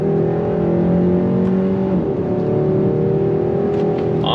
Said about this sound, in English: I'm gonna drop it down a couple gears. Third gear, second gear, you hear the pumped in sound.